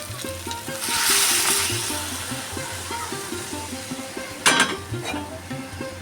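Hot water going into a sizzling prawn, potato and pointed gourd curry in a pan, a loud hiss that rises and then settles into steady frying with a few stirring clinks and a sharp burst near the end.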